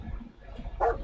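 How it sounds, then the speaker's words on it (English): A dog barks once, a short, moderately distant yelp standing out briefly over a low background hum indoors. "You can hear the dogs barking."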